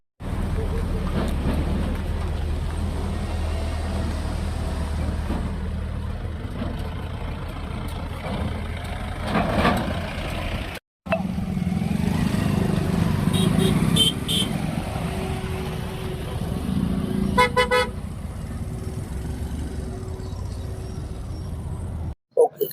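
Engines of cars, trucks and motorbikes rumble steadily as vehicles pass close by on an unpaved dirt diversion road near Dabhoi, Gujarat, with a brief cut partway through.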